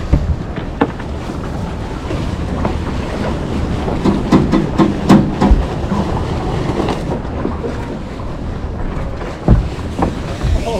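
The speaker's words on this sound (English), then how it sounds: "This boat is ginormous, and it is so intensely fast." A large performance catamaran races fast off Zihuatanejo, Mexico, with loud buffeting wind on the microphone, rushing water and hull slaps, and occasional thumps.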